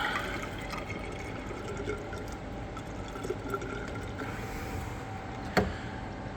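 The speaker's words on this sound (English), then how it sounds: "Water is running down." Continuous rushing water trickling and gurgling down a drain, steady and close, with a brief clunk near the end.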